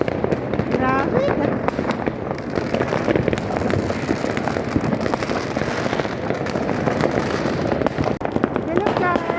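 New Year 2025 fireworks and firecrackers going off in a dense, continuous barrage of close, loud crackling pops and bangs, with people talking throughout.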